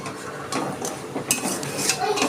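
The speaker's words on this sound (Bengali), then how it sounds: "এবার আমি চিনি শিরার মধ্যে দিয়ে দিচ্ছি। এইভাবে নাড়াচাড়া করতে হবে কিছুক্ষণ।" Fried gaja, a flour sweet, stirred in sugar syrup in a pan, with quick scraping and clinking of a utensil against the metal in short bursts, close and fairly loud.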